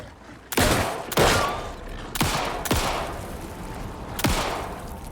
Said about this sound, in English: Should stop firing wildly.